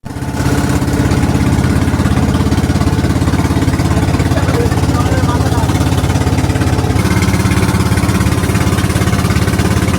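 A motor boat on the Dawki river in the rain runs its engine at a loud, steady drone, close and continuous throughout, with a slight shift in tone partway through and no talking over it.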